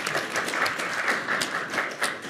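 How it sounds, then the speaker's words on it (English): Modest applause from a small audience at a leadership keynote, fairly quiet and distant, with individual claps audible in a loose, uneven rhythm. "Round of applause"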